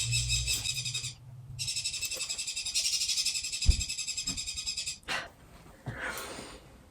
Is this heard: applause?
no